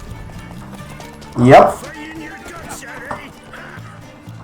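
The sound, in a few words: horse galloping in video game The Witcher 3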